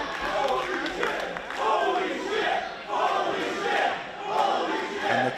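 A wrestling crowd cheers and roars in loud waves that swell and ebb several times, filling the arena continuously without a break.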